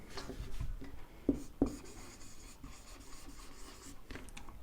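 Pen or chalk writing on a board in a lecture room: faint scratchy strokes with two firmer taps near the start, quiet and close under a soft room hum.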